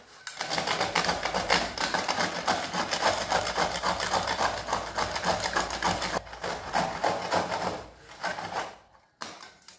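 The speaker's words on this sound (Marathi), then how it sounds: "तर आपण खोबरा खिसून घेऊया।" Fresh coconut is rubbed against a hand grater in fast, rhythmic scraping strokes, close and fairly loud, with a short pause near the end.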